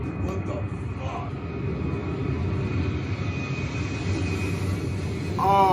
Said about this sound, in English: Oh, they got the plane.